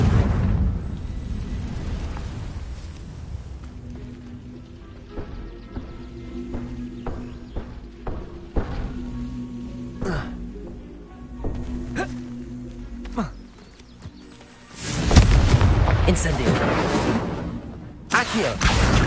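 Confringo blasting spells in Hogwarts Legacy burst into loud fiery explosions, with a big roaring blast near the end, over game ambience and scattered smaller impacts.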